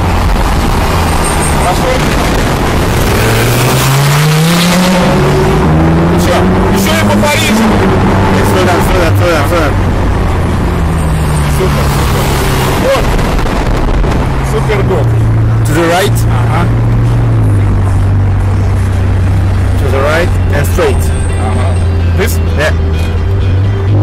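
Ferrari California engine droning and shifting pitch while driving through Paris, with rising and falling revs under loud road noise and someone talking over it throughout.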